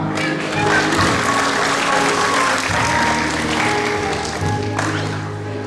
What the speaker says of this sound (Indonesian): Roya ini kita tepuk tangan untuk Tuhan.